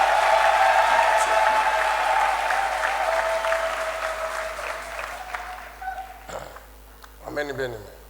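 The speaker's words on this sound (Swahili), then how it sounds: "Tumpigie Bwana makofi juu ya wadada." A church congregation claps and applauds together, a dense, loud burst of many hands that gradually fades over several seconds before a voice resumes speaking.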